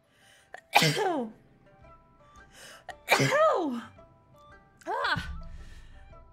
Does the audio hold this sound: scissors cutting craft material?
no